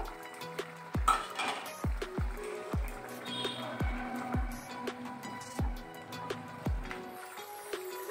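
Fried shrimp tipped into a cooking pan of cucumber, giving a string of sharp metallic clinks and taps against the pan at an uneven pace, fairly quiet with a soft background hiss.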